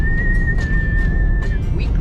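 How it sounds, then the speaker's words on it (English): A single sustained whistled tone, steady and fairly loud, holding one pitch for about a second and a half against a low background rumble. "I can whistle"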